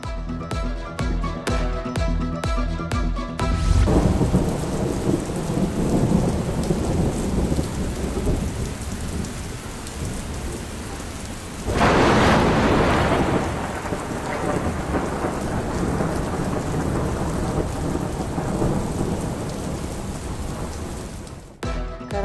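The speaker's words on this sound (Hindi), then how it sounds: "कराची में मानसून ने रंग जमा दिया। शहर के मुख्तलिफ इलाकों में बादल बरस पड़े।" Heavy monsoon downpour over Karachi, a loud dense roar of rain joined by a burst of thunder midway, with a short stretch of music-like tones at the start and no speech.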